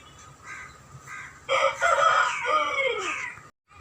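An Aseel rooster crows once, loud and near, a long strained call lasting about two seconds, preceded by a few softer clucks.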